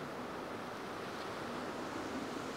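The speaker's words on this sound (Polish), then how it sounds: "Na zatoce fale." Waves washing on a bay under a dark, cloudy sky, heard as a steady, even surf roar mixed with some wind, with no voices.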